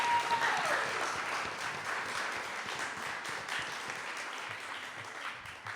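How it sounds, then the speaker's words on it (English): Applause at a youth law program graduation ceremony, a continuous broad wash of many clapping hands, steady and somewhat distant, with a faint brief tone near the start. "she deserves a round of applause herself"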